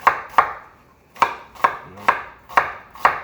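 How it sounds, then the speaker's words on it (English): A knife chops vegetables for Jamaican seasoned rice with callaloo on a board, making seven sharp, close thuds in an uneven rhythm with brief pauses between groups and no voices. "So now we're going to cut the stuff up."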